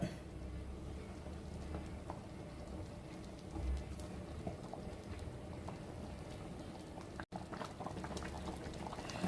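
Thick pumpkin payasam bubbling and boiling steadily in a pot, a continuous soft gurgle with a brief gap near the end.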